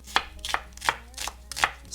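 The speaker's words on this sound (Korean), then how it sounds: "양파 1개를 채 써는데요" A knife slices an onion on a cutting board, five or six crisp thuds spaced evenly, close and clear with no talking.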